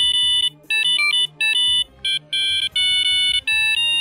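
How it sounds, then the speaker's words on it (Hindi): A phone in the video game GTA 4 plays a pager-style ringtone, the same tone used for pagers in GTA 3. Loud, bright electronic beeps repeat in quick bursts with short gaps between them, and no voice is heard. "GTA 4 के फोन्स में आप एक पेजर रिंगटोन भी सेट कर सकते हो। ये रिंगटोन वही रिंगटोन है जो कि GTA 3 के अंदर पेजर्स में यूज होती थी।"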